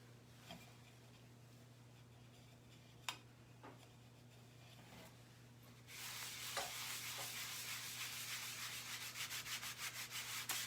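Wax is rubbed onto the surface of a Christmas countdown craft kit with a faint, steady back-and-forth scrubbing that starts midway and continues close and quiet, after a few small taps.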